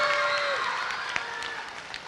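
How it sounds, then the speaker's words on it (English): Audience at an elementary school moving-up ceremony giving a round of applause, a brief, moderately distant patter of clapping that tapers off, with a faint tone lingering briefly at the start. "Round of applause for Ms. Amaya for arranging and rehearsing the student choral performances."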